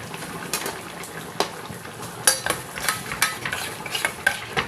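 Fried rohu fish pieces being stirred into a curry in a pan, with steady soft sizzling and repeated scraping, clinking stirs close by.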